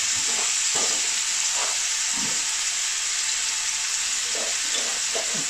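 Whole garam masala spices — bay leaves, cinnamon sticks, black peppercorns and cardamom — sizzle in hot oil, a steady close frying hiss broken by a few soft crackles and pops, with no talking.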